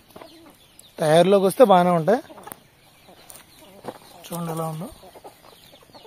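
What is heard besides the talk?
chicken (chick) clucking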